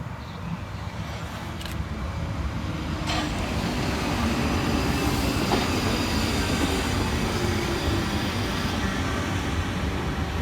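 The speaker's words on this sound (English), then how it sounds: "Arriving next into the station will be 458 410 and 458 428, working the 1444 South Western Railway service from Reading through to London Waterloo." Two coupled South Western Railway Class 458 electric units pull into a station on the line to Reading, a steady rumble of wheels on rail that builds and stays loud. A few sharp clicks and faint squeals sit over the noise.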